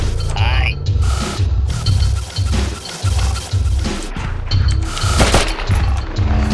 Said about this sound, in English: if there are two sligs on the platform and you start chanting, one will shoot the other.